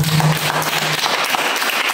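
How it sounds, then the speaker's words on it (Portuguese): A church congregation applauds together in a steady, loud burst of clapping that fills the room. "Dê um aplauso ao Senhor."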